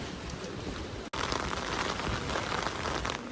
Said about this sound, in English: As you can see, it's raining again.